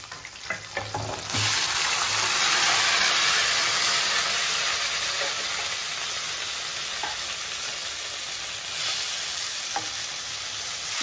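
Chicken and onions frying together in a pan, a loud continuous sizzle and hiss that swells after a second and holds steady, with a few faint clinks of stirring and no talk.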